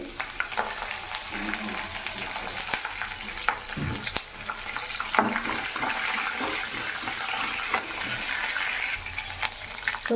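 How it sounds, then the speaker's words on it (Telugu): Green chillies and curry leaves frying in a pan over a low flame while being stirred, giving a steady close sizzle with scraping stir strokes throughout, no talking. "కరివేపాకుని వేసుకుని ఇవన్నీ ఇప్పుడు బాగా లో ఫ్లేమ్లో పెట్టుకొని బాగా వేరే వరకు ఇలా కలుపుకుంటూ ఉండండి"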